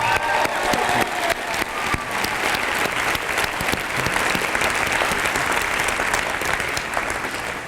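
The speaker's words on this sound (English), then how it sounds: "Those guys, give them a round of applause." A live audience gives a steady round of applause for guests Morris Peterson, Mateen Cleaves and Anthony Dirrell, dense clapping filling the room at full volume for the whole stretch with no talk over it.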